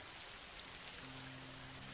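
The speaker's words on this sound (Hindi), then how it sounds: "देखो कितनी जोर की बारिश हो रही है।" Heavy rain in a cartoon scene pours down as a steady, dense hiss that fills the whole clip, with a low hum joining partway through.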